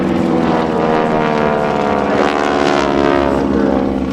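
Geico Skytypers propeller planes at a New York airshow roar loudly and steadily overhead, a continuous droning engine sound filling the whole moment with no talk.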